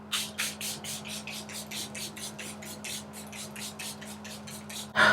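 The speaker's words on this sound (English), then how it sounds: "this is the Airbrush Flawless Setting Spray" Rapid pumps of Airbrush Flawless Setting Spray hiss in a quick, even series of about fifteen short bursts, close by, over a faint steady hum of a fan.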